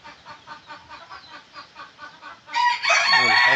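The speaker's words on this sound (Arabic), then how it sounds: "طبعا هذا الديك الإسباني" A Spanish rooster crows loudly and close at the end, after a series of rhythmic, pulsing clucks and calls from nearby fowl.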